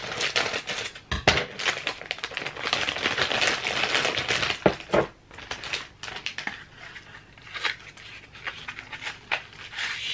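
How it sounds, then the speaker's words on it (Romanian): A plastic bag from a mystery box is cut open with crisp, crackling rustles and snips. The sounds come close and fairly loud in irregular bursts over about ten seconds, with no talk. "Da, o să tăiem punga."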